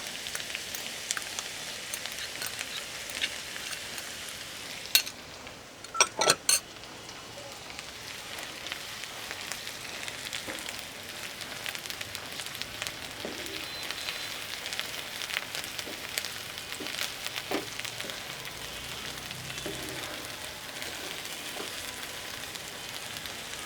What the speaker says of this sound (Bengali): পেঁয়াজ বাটাটা হালকা লাল হয়ে গেছে, এবার অ্যাড করছি এই সরিষা বাটাটা।